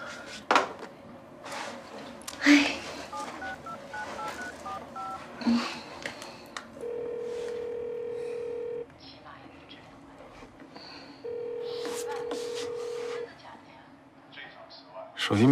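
An unanswered mobile phone call: quick dialing tones, then two long, steady ringback beeps with pauses between them, all under intermittent conversation in an indoor drama scene.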